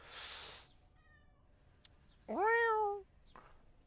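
A soft synthetic chime and faint blips, then one clear, tonal cat meow rising and falling from a video game, Hidden Cats of London, followed by a brief faint sound; no talking.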